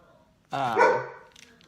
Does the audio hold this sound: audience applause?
no